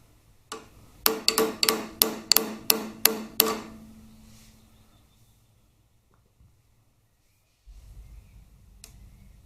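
A hammer taps a Harley-Davidson Twin Cam 88 motorcycle engine part during a strip and rebuild, about eight sharp metallic strikes in a quick, steady rhythm, close and loud, followed by quiet.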